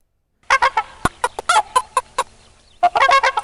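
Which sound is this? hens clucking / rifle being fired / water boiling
hens clucking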